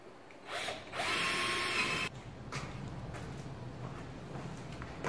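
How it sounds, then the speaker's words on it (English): A power drill whirs up and runs at a steady high pitch for about a second drilling a pilot hole for a diesel heater install, then stops, leaving a quiet room hum. "I'm gonna drill it right now while you watch."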